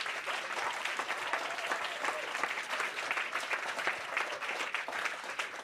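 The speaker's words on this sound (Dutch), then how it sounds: "Mag ik even een applaus voor de regisseur?" A theatre audience gives a director steady, dense applause that holds at an even level throughout, a broad wash of clapping hands with no voices over it.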